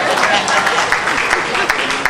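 Audience applause at a live evening event, sustained clapping from a crowd throughout, with a dense, even roar and no pauses.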